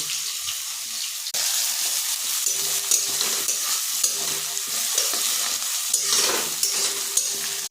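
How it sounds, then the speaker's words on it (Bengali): Chopped onion with garlic paste fries in leftover fish-frying oil with panch phoron, a loud close sizzle with repeated scraping stirs throughout. "পেঁয়াজের সাথে রসুনের পেস্টটা দিয়ে দেবো।"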